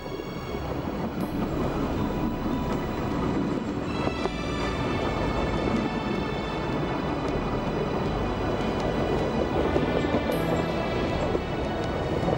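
Steam locomotive of the Muskauer Waldeisenbahn forest railway, fitted with a spark-arresting balloon stack, rolling past with a steady, loud rumble and clatter of running gear and cars, continuous throughout with no talk.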